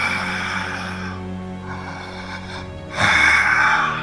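A voice imitates muffled, filtered breathing, two drawn-out breaths with a hollow, heavily filtered tone, the second louder and closer.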